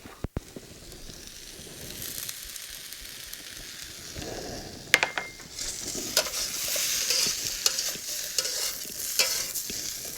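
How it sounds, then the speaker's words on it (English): Vegetables and potato with onion and soy sauce are stir-fried in a pan, a low sizzle that grows louder and brighter halfway through, punctuated by a sharp clack and intermittent scraping stirs. "we keep stirring it to make the potato little bit soft"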